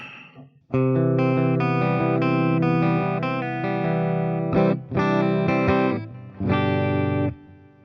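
A clean electric guitar plays sustained chords and notes with lush delay and reverb tails, loud and up front, with brief pauses between phrases.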